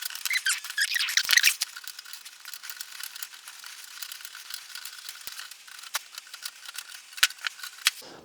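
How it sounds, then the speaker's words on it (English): Scissors or snips cut through a square of wire trap mesh for a yabby trap, a dense scratchy crunch of snipping at first, then quieter scattered clicks and snaps up close with no talking. "So I'm going to cut from the centre of the square out to the corner of the square."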